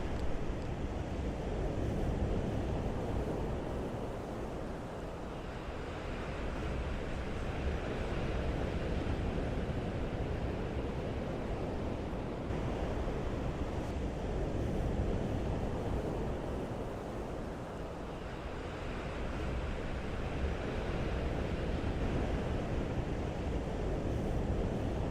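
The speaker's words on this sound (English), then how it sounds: "Love the sound of the waves." Sea waves roll onto the sandy beach at Winterton-on-Sea in a continuous broad roar, swelling and easing in slow surges, with gusty wind buffeting the microphone and no voices.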